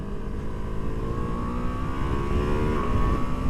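A Ducati Multistrada V2 S motorcycle engine drones steadily as the rider comes down through two gears over a dip, the pitch sliding gradually, loud and close with wind underneath and no talk.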